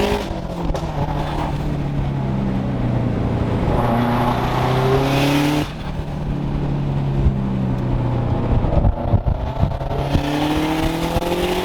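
A Subaru JDM build fitted with HKS parts at a car show idles and revs loudly nearby, its engine note rising and falling in waves over a steady rumble, with crowd noise in the background.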